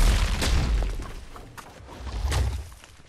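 Rocks thrown with Avatar earthbending in Fortnite hit with deep heavy booms, two main thuds about two seconds apart with lighter crunches and whooshes between them.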